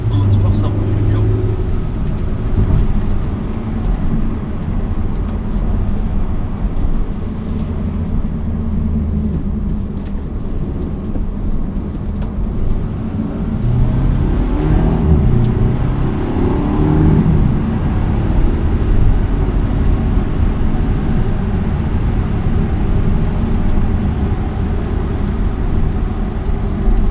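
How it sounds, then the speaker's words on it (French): A 2018 BMW F31 320i touring with M package and its small four-cylinder engine, heard from inside while driving as a steady low drone and road hum, moderately loud and continuous. "Il est vraiment surprenant ce petit 4 cylindres, le petit P48."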